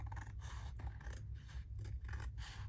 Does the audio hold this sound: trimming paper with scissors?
yes